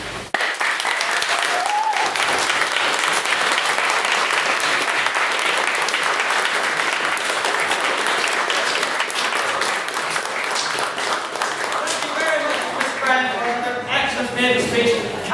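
Audience applause in a hall after a debate speech on repealing the Eighth Amendment, loud continuous clapping lasting throughout, with a voice starting to speak over it at the very end.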